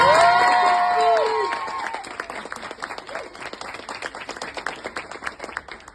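At a stand-up comedy show in Lille, whoops and shouts from the crowd rise over clapping, then the cheering fades into steady scattered applause that continues to the end.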